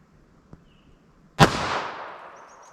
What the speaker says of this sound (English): first up we have our 380 ACP